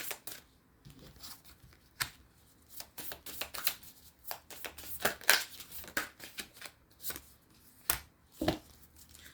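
Tarot cards shuffled by hand at close range in a quiet room, a steady run of soft riffling flicks and papery slaps with brief pauses between bursts.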